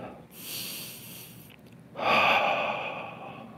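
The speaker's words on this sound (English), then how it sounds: "One slow breath." A slow breath taken during an upper-back and chest stretching exercise, with a soft hiss of air in and a louder, fuller exhale, close and alone.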